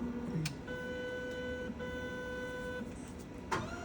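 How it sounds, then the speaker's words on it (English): A steady mechanical whine with a few clicks as a Tosoh lab analyzer primes and dispenses wash and diluent fluids, humming for a few seconds before stopping. "You'll hear priming and dispense, how it's priming and dispensing our wash and diluent."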